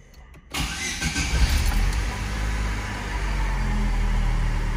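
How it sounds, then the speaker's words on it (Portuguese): A car engine with 157,000 km on it cranks and starts, then runs loud and close with a steady low rumbling drone and a roughness like a failing bearing. "Não sei se vocês estão ouvindo aí um roncado, um ruído igual um rolamento estragado."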